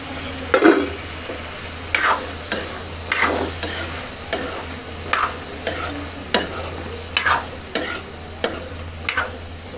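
Potatoes, peas and carrots are sautéed in masala in a karahi, a soft frying sizzle punctuated by regular spoon scrapes and clinks against the pan, close and without talk.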